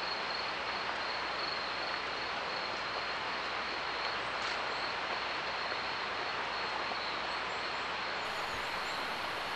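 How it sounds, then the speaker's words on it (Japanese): A mountain stream in the Hatonosu gorge at Okutama runs beside a hiking trail along the Tama River, a steady, even rushing hiss with no voices, with faint insect-like chirps high above it. "多摩川沿いの道です渓流音が心地よい道です"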